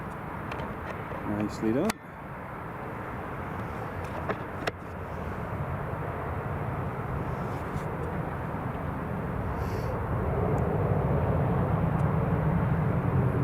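An EasyJet airliner taking off and climbing away from Newcastle International Airport, a broad, steady engine roar that slowly swells and stays loud throughout, with people talking over it nearby.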